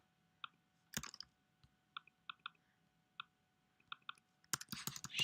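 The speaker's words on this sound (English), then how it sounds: "Let me type this in." Quiet, scattered keystrokes on a computer keyboard come in small irregular bursts, with a louder clatter of several keys near the end, close and faint in a silent room.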